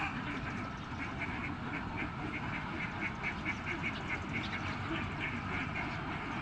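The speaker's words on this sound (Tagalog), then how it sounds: "Yan yung mga alaga nating itik mga idol." A flock of domestic ducks quacks in a continuous, overlapping chorus nearby, the calls coming in steady rhythmic bursts over a dense outdoor background, with a voice faintly present.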